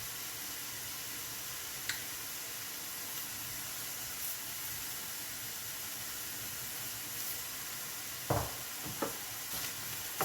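Lardons and onions frying in a pan, a steady soft sizzle running throughout with a few louder clinks and stirring scrapes near the end.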